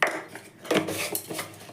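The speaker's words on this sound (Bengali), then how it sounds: "যত এইভাবে ভালো করে ফেটিয়ে নেব" Cake batter made with cornflour instead of flour, whisked in a bowl: brisk metallic scraping and clinking of utensil against the bowl, uneven strokes repeating close up with no talking.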